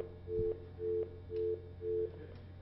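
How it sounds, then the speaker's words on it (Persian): A telephone line busy signal heard over a phone connection, four evenly spaced tone pulses repeating about every half second over a low steady hum, faint and with no voices. "تلفنامون ایراد داره امروز علیرضا."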